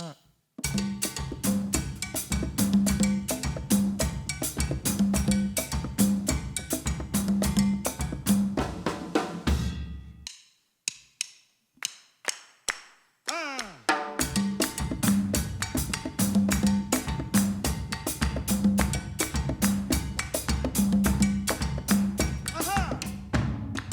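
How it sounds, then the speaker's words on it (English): Haitian compas rhythm is played on percussion, with a bright cowbell-like pattern over busy drums in a steady, danceable groove. A short break with sparse hits falls in the middle before the full rhythm resumes. "Very infectious rhythm known as compas or compas direct."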